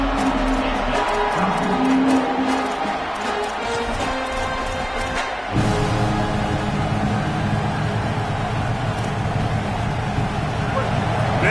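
Dense football stadium crowd roar at a South Carolina at Texas game during a third-and-goal play, loud and sustained throughout, swelling further near the midpoint, with commentators talking over it.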